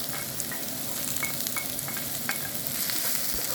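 Diced onion stir-frying in a pan, a steady soft sizzle with occasional scraping stirs, close and alone.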